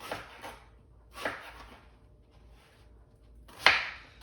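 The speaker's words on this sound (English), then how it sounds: "so we're almost done chopping up our eggplant" A knife chops eggplant on a cutting board in three sharp, isolated strikes spaced about a second apart, close and fairly quiet, the last one crisp and loudest.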